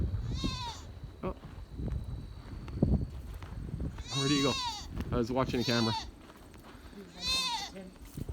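Goats bleat on a farm, a few loud, wavering cries spaced across the stretch and mixed with nearby people talking.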